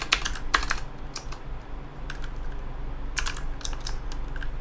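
Someone types on a worn, faulty computer keyboard, producing bursts of quick clacking keystrokes separated by brief pauses, close and fairly quiet over a low hum.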